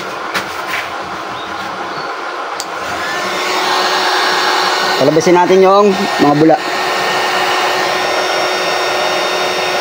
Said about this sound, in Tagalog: Mag-blower tayo.